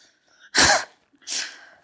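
A horse sneezes twice, a sharp loud snort followed by a second softer blow after a short pause, close by with no talk.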